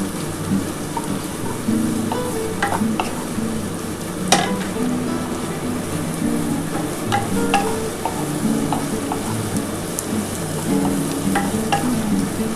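Chopped ginger, garlic and green chili frying in oil for homemade egg chowmein, a loud, steady rain-like sizzle with scattered utensil clicks and scrapes throughout, close and continuous.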